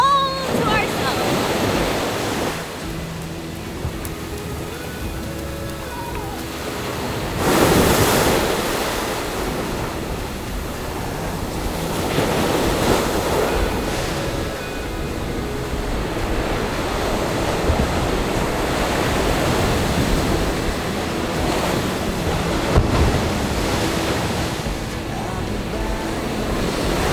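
Ocean waves at Cathedral Cove, a continuous roaring wash of surf with wind rumble, swelling in a few louder surges.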